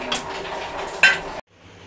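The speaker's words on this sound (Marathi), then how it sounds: "आता आपण त्यावर झाकण मारून ठेवूया, म्हणजे ते वाफेवरती शिजेल" Lid set down onto a pan of jackfruit curry that has been sautéed in oil, with a clattering scrape of metal and a sharp clink near the end before the sound cuts off.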